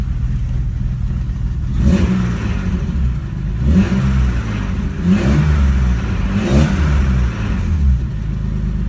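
A BMW E30 fitted with an S50 engine starts and revs, with rhythmic surging blips of a mid-pitched engine over a steady idle, some ticking lifter and VANOS mechanical noise, close by with no talk.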